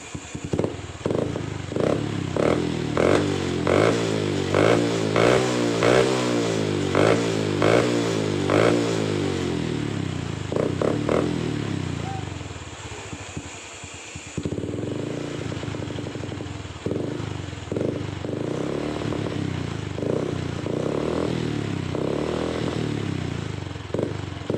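Honda Revo Absolute motorcycle with a modified drilled-out exhaust revs repeatedly in loud, crackling bursts, settling briefly toward idle before sharp throttle blips return, close and continuous with no talk.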